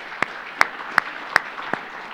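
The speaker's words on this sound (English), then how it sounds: "deserves a round of applause" A few sharp, evenly spaced claps ring out one after another from an audience welcoming speaker Chad Wolf; they are sparse, not a full ovation.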